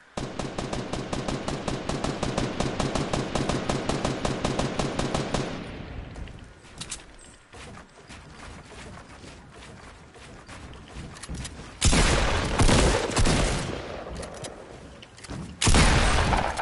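Rapid automatic gunfire in a shooter video game, loud and continuous for several seconds, then scattered shots and bursts through a busier, noisier stretch with sudden loud volleys near the end.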